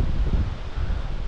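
Outdoors by a lake with whitecaps, wind rushes across the microphone in a brief, close, steady roar.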